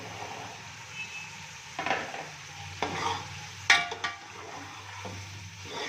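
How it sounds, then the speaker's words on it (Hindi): Chickpeas frying for chana pulao, a soft continuous sizzle broken by a few scraping stirs and a sharper metallic clink of the spoon against the pot, close and moderately quiet. "अब इसमें हम चने शामिल कर देंगे।"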